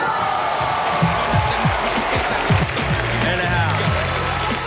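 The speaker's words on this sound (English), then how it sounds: "this is the sound of Outkast being booed by a New York crowd that didn't take too kindly to a rap group from the" A New York crowd at an awards show boos the Southern rap group Outkast, a loud, sustained mass of low jeers and shouts with some cheering mixed in, and voices talking over it.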